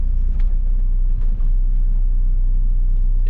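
Saab 9-3 with a failing automatic transmission skipping while driving, heard as a steady loud engine and road rumble from inside the car, with faint irregular knocks and shifts underneath.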